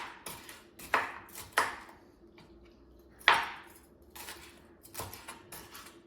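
A knife cuts around a pepper on a board, giving a few crisp separate taps and scrapes at close range with quiet pauses between them.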